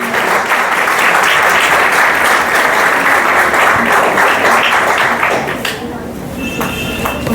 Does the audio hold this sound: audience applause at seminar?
yes